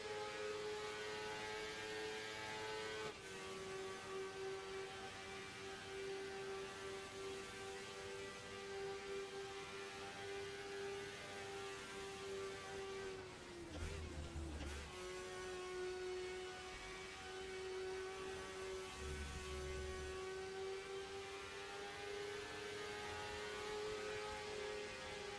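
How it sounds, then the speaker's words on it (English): A V8 race car engine in the Raceroom sim racing game drones steadily at high revs, holding a constant tone with a brief dip and low thump partway through before climbing back up. "Oh, it's a V8."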